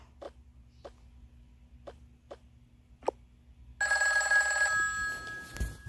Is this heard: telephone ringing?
yes